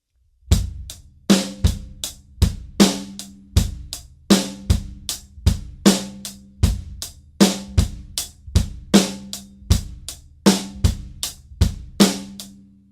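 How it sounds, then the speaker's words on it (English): Acoustic drum kit groove: steady eighth-note hi-hat, snare on beats two and four, and kick on one and the offbeats, repeating evenly for several bars, played close and clean with no talking. "Eighth notes on the hi-hat,"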